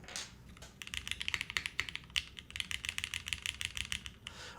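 Rapid, crisp keystrokes clatter on a Fukuro mechanical keyboard with Yukihana switches and ABS keycaps, a steady close-up burst of typing with no talking.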